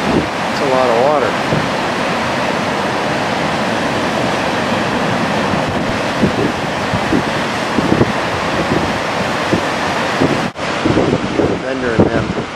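Rushing water pours over Grand Falls in Arizona, a loud continuous roar close by with wind buffeting the microphone and brief voices breaking through now and then.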